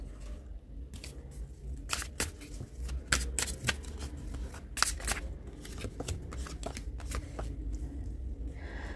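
A tarot card deck is shuffled close up, giving a run of crisp riffling and snapping bursts at an uneven rhythm over a low background hum.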